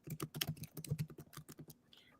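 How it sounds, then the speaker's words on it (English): Rapid typing on a laptop keyboard, a steady patter of close, crisp key clicks with uneven rhythm that tapers off near the end. "I don't type 100 words a minute. I was just typing maybe 20,"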